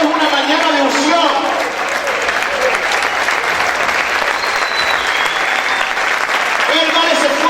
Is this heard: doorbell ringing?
no